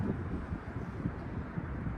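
Strong gusts buffet a DJI Mavic 3 drone in flight outdoors, a steady, loud low rumble of wind noise with fluctuating pulses and no voices.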